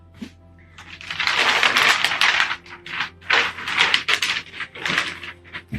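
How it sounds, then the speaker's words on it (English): Scissors snip and slice through thick, crinkly wrapping paper in a series of loud, close, rasping cuts with brief pauses between strokes. "Good thing I got my handy dandy scissors."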